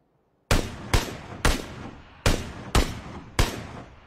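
Video game gunfire, six loud sharp shots spaced roughly half a second apart, each with a short decaying tail, close and alone after a brief quiet start.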